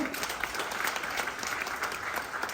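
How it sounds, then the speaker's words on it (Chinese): Audience applause at a formal China–Tajikistan conference welcoming guests, steady dense clapping from a crowd throughout, moderately loud and continuous without pauses. "再一次掌声欢迎。"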